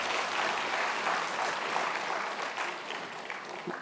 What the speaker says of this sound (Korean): 다시 한번 은혜로운 찬송을 불러주신 합장단께 박수 보내주시기 바랍니다.